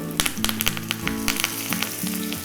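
Curry leaves dropped into hot oil for a tempering (oggarane), crackling in a loud, close sizzle with many sharp spits and pops over a continuous hiss.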